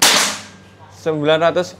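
A single sharp PCP air rifle shot, from a 500cc double-tank Bocap Hacker, cracks loudly and decays quickly, followed moments later by a brief voice.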